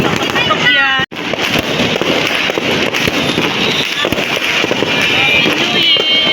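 Dense, continuous crackling and popping of New Year's fireworks and firecrackers, loud and close, with whistling streaks overhead and voices calling out beneath the din.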